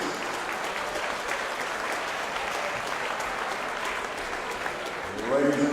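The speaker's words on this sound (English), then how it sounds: "let's have a nice round of applause for both fighters" Spectators at a boxing event at the Hard Rock Hotel in Daytona Beach give both fighters a steady, even round of applause, ending as a voice begins speaking over it.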